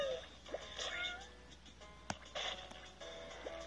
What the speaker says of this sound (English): Oh, these are kitties,